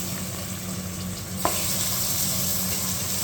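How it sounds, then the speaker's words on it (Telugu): Mutton fries with sautéed onions in a pan for a cucumber mutton curry, a dense close sizzle that swells slightly after a single sharp clack of a utensil partway through. "ఉల్లిపాయలు బాగా వేగిన తర్వాత మటన్ వేయాలి"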